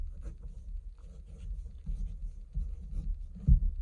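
Pencil writing numbers by hand on paper during a decimal division math problem, faint close scratching strokes in short bursts, quiet and without talking.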